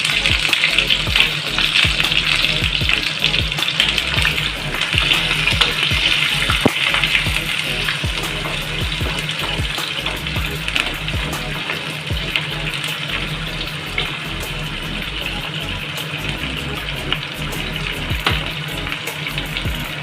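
Onions fry in a pan for tomato rice, giving a dense, loud, continuous sizzling hiss with scattered crackles and pops, close and steady throughout.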